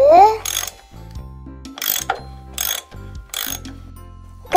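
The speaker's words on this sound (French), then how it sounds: "Alors, on visse un peu." A toy sink fitting being screwed into place makes a few short bursts of plastic ratcheting clicks separated by pauses, close and fairly loud, with a brief squeaky toy-like tone at the start.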